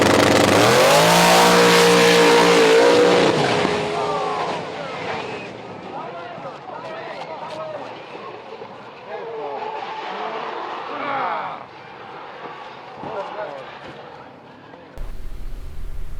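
LS-powered S-10 race truck fitted with a ProCharger and nitrous, a loud engine roar at launch that fades into a distant, rumbling run mixed with crowd and track noise, with people talking over it.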